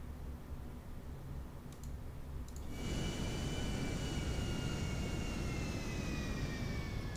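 Fixed-wing aircraft landing in a GTA video game, a jet engine whine that swells and holds as a steady roar with a falling high tone, heard alone at moderate level.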